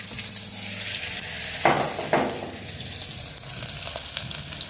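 Capsicum and potato fry with a loud, steady sizzle, broken by two quick scraping stirs, no voices.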